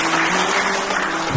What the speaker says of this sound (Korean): 여러분 정말 격려의 박수 한번 부탁드리겠습니다.